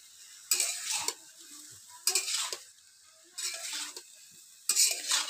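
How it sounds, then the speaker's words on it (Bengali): Bottle gourd frying with salt and turmeric is stirred in four separate bursts of scraping and sizzle, each about a second long, with quiet gaps between them and no voices. "এবার হলুদ দেব, দিয়ে নাড়াচাড়া করব।"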